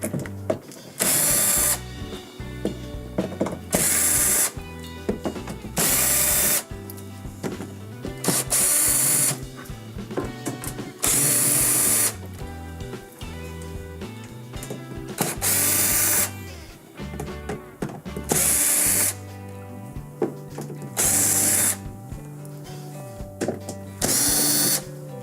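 A power drill removes number 2 Phillips screws from a GE dishwasher panel, running in loud repeated bursts of whirring, each a second or two long, separated by short pauses, with no talking.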